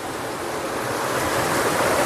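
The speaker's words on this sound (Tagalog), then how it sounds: "Sapa, masarap maligo dito." Mountain stream flowing after rain, a steady close broadband rush of water that swells slightly over two seconds, with no voices.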